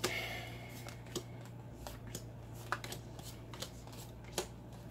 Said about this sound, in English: let's get a couple of more shuffles here